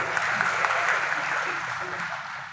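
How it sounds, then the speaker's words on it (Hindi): Audience at a ceremony where new doctors receive appointment letters breaks into steady applause, a dense wash of clapping that holds evenly throughout and tapers slightly toward the end. "एक बार जोरदार ताली आप सबकी ओर से।"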